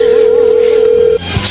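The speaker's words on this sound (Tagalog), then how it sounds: "Ayan, nagriring ang phone niya." A phone's ringback tone plays on a call, one steady beep that holds for just over a second and then cuts off.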